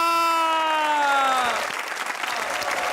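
A studio audience at a Pakistani comedy talk show breaks into loud applause to welcome guests, after a sustained musical tone fades out. The clapping is dense and continuous, with some crowd noise.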